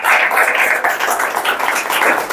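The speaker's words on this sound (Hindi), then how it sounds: "जोरदार तालियों से उसका स्वागत करें।" An audience welcoming an olympiad qualifier breaks into loud, close, continuous applause, a thick flurry of many hands clapping at once that holds steady from start to finish with no talk over it.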